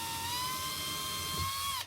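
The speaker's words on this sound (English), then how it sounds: "we do drill a small pilot hole" An electric drill bores a small pilot hole in a charcuterie board epoxy mold. It makes a loud, steady high whine for about two seconds and then winds down abruptly.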